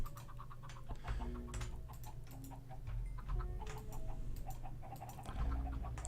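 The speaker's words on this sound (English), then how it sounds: "We got some baby chickens out of that." Baby chickens in a blocky video game, small clucks and peeps popping up repeatedly over a low steady background hum, no speech.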